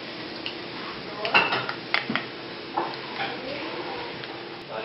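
Dry fritter ingredients being gently mixed in a bowl, with soft scraping and a few light clinks of utensil against the bowl, quiet and close, with no talking.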